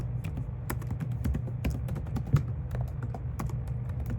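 Keystrokes on a computer keyboard as someone types in a web address, a steady run of close, crisp clicks over a low background hum with no talking.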